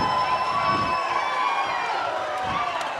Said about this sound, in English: Osage crowd is going nuts.